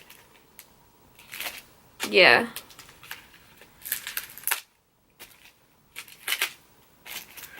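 Cardboard and plastic packaging sealed with tape is pulled open by hand in short bursts of tearing and crinkling, with one loud rip and pauses between. A person speaks briefly.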